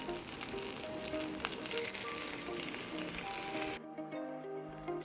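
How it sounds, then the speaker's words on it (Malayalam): Onion, garlic and ginger sautéing in hot oil with fennel and curry leaves, a loud, dense, close sizzle that suddenly drops to a quieter crackle near the end. "അത് കഴിഞ്ഞ് ഉള്ളിയും വെളുത്തുള്ളിയും ഇഞ്ചി എല്ലാം കൂടെ നല്ല വഴറ്റിയെടുക്കും"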